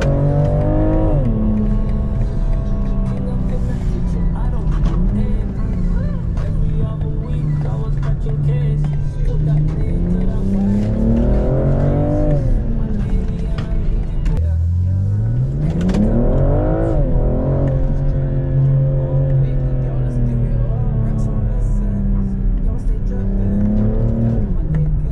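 A car drives along with a steady engine drone that rises and falls as it shifts and accelerates, loud and close from inside the cabin, while people talk over it.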